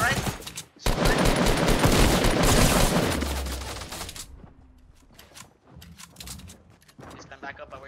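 Rapid gunfire in the video game Fortnite: a dense, loud barrage rattles for several seconds, then thins into scattered, quieter shots, with a voice partly mixed in.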